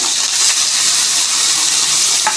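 Garlic, ginger, onion and chili pastes sizzle steadily in hot oil in a pan, a continuous bright frying hiss with a faint clink of the spoon, close and fairly loud.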